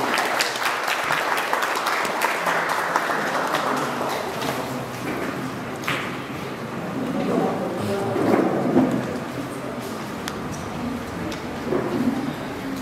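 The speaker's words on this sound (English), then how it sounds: "Round of applause, please." Audience clapping at a felicitation ceremony for a UPSC civil services achiever, a moderate, fairly even patter of hands in a hall, with a few louder knocks and shuffles mixed in.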